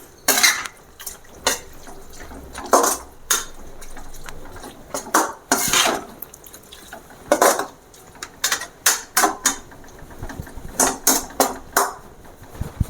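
Spatula stirring bitter gourd and prawn fry with salt in a metal pan, irregular clanks and scrapes against the pan, some in quick clusters and others spaced apart, with no voices.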